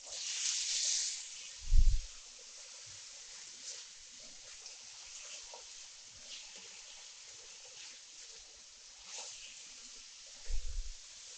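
Chopped vegetables and onions fry in a pan for kothu parotta, making a soft, steady sizzle broken by a couple of dull low thumps.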